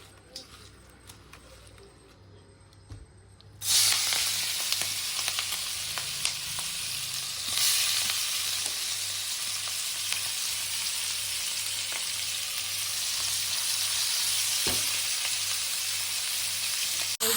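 Shrimp coated in salt and turmeric sizzles in hot oil in a pan for a Bengali shrimp and pointed gourd curry, a sudden loud continuous fry that starts a few seconds in after a quieter stretch and carries on steadily with faint background noise.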